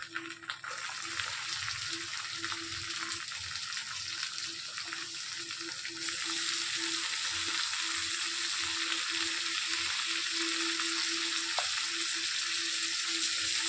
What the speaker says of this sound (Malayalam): ഇനി അതിലേക്ക് നമുക്ക് സവോള വഴറ്റിയെടുക്കാം